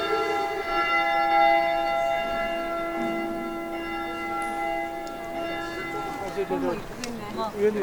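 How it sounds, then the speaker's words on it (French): A lucky bell rung on an island in Slovenia, its long, steady tone sustained and ringing out under quiet voices that grow busier toward the end. "on va aller sonner le son de la cloche qui porte bonheur"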